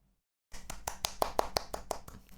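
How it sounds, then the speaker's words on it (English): Hands clapping at a steady quick pace, about a dozen sharp claps after a brief silence, close but fairly soft and alone. "that's me clapping my hands to cheer you"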